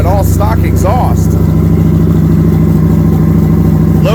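A 2018 Kawasaki Vulcan 900 Custom with stock exhaust idles loudly and steadily up close, a deep, even engine rumble throughout, while someone talks over it at the start.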